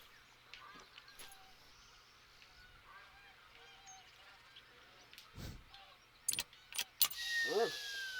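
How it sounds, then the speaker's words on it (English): Canada goose honks in the hunting game The Hunter: Call of the Wild, with a few faint scattered calls and then a cluster of louder, nasal honks near the end over quiet outdoor ambience. "Canada goose."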